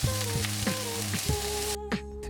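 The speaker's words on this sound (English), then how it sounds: "you're going to color the chicken skin side down so that it goes nice and golden. And you want to hear a really nice sizzle" Chicken pieces laid skin side down in hot oil in a pan, sizzling with a loud, continuous crackle and sputter up close, cut short by a quieter stretch near the end.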